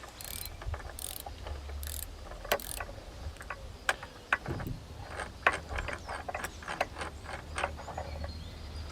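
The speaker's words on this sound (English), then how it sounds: "you will need to pull at the same time as you unscrew your first nut" Steering fork nut being unscrewed on a Ninebot E25E electric scooter: sharp metallic ratcheting clicks and scraping in irregular bursts, close and fairly loud, with no voices.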